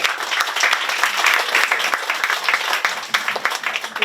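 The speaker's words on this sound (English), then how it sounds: "Can I ask everyone to give the panel a round of applause?" A crowd applauds loudly and steadily, many hands clapping together in a dense, continuous patter with no voices.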